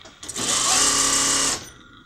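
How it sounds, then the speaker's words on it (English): A sewing machine runs in one short, steady burst of about a second and a half, stitching the side hems of a handmade curtain, whirring close and alone before stopping. "Simple case of then stitching. up the side hems,"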